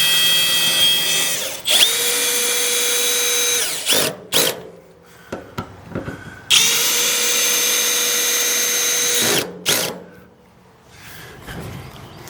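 A power drill drives self-tapping screws into a wood trailer deck in two long, loud whirring runs with short bursts and pauses between them, the motor whining up and winding down close by.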